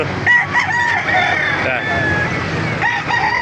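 A rooster crows, loud and fairly near, at a chicken market in Baliuag, Bulacan, over a busy background of rustling noise and faint voices.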